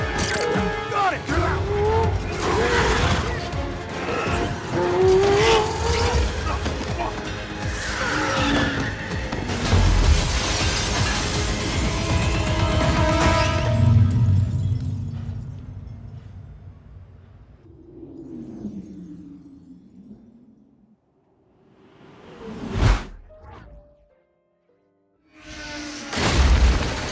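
A Lycan Hypersport car chase stunt scene in Fast and Furious 7, loud engines, booms, skids and crashing impacts under dramatic music, with voices at times, quieting before sharp bursts near the end.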